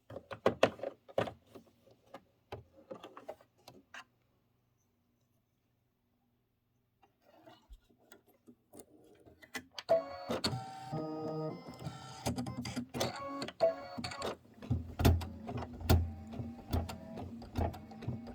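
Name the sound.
embroidery machine stitching apple stems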